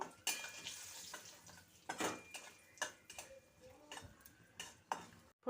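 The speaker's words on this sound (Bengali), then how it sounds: "ভালো করে ফোড়নটা ভেজে নেব" Dried chili and asafoetida fry in a pan of oil for a vegetarian Bengali potato and yardlong bean curry, faint crackling with several sharp clicks and utensil taps, quiet and close.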